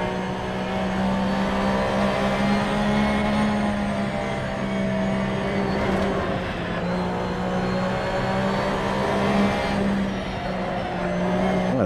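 Porsche Cup race car engine in the Assetto Corsa racing game, a steady loud drone with a sustained high-pitched whine and slight pitch shifts as the car holds speed through the race, running continuously without talk.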